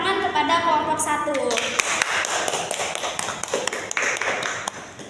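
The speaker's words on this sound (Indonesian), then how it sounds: "Beri tepuk tangan kepada kelompok 1." Classroom applause for a student group, with scattered claps and taps rising from a crowd of pupils, beginning under a teacher's voice and continuing with uneven, lively hand claps.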